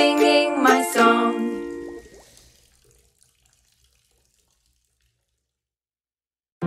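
Water from a tap running into a bath for a couple of seconds, a bright gushing splash that quickly fades, leaving near silence.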